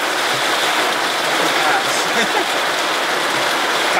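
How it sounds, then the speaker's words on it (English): Dense, steady hiss of heavy rain pattering on a surface in Faith, South Dakota, during tornado weather, close and constant, with faint voices murmuring underneath. "Wait till this rain passes."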